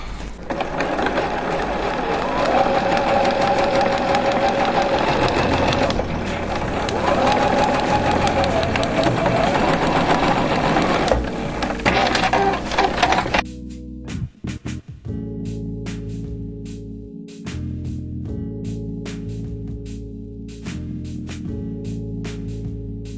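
A sewing machine stitches the lining seam of a dress, first buzzing steadily for over ten seconds, then running in shorter start-stop bursts of rapid needle clatter, with someone speaking in Russian alongside.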